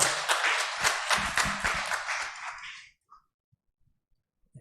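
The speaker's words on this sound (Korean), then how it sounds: "우리 인사할 때 큰 박수 격려 부탁드립니다" A church congregation at a Sunday service breaks into applause, rhythmic clapping filling the room for about three seconds before it stops abruptly into near silence.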